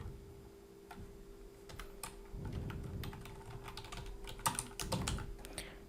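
Quick, uneven keystrokes clatter on a computer keyboard close by, in short bursts with small pauses over a faint steady hum.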